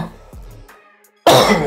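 Coughing and throat clearing from a man, a few soft clears early on, then a loud, close burst of coughing at the end.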